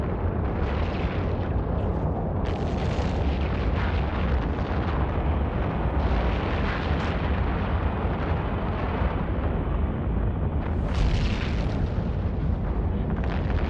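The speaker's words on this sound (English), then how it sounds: "Oh, the Nyx is unpiloted. They ejected, so it will explode very soon, right?" Continuous loud rumbling blast and roar from an unpiloted Nyx mech blowing up in a video game, a dense sustained explosion with brief bursts flaring near the end.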